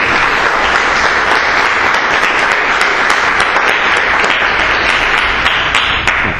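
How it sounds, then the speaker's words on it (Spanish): Loud, dense audience applause welcoming a priest before a lecture on structuralism and Foucault, steady clapping from a large hall that holds evenly for several seconds without talk. "lo recibimos con un fuerte aplauso"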